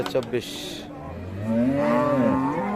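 Friesian cows with calves mooing at Raniganj livestock market in Dinajpur, a short low call first, then a longer loud drawn-out moo close by, with faint crowd murmur behind.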